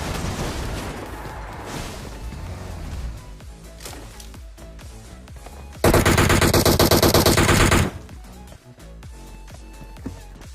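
Rapid automatic gunfire from a PUBG match on a military base map, a loud continuous burst of around two seconds standing out above quieter game sounds, with no one talking over it.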